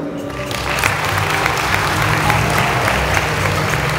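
Louder applause from an audience at a municipal staff recognition ceremony, dense and sustained throughout, with a voice faintly audible underneath.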